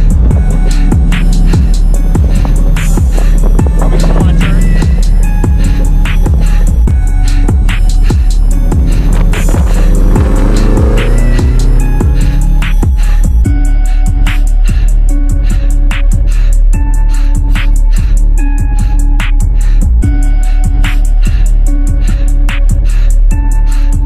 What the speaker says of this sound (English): With unequal length headers, sounds like Subaru.